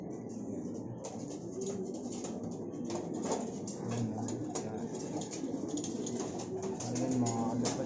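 Racing pigeons returning home to the loft coo softly and repeatedly, faint and nearby, over a quiet outdoor background.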